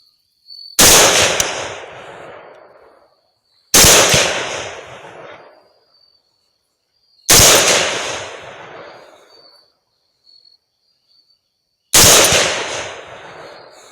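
.308 rifle fired at a boar during a hog hunt: four loud, sharp shots about three seconds apart, each with a long echoing tail fading into quiet, with no voices.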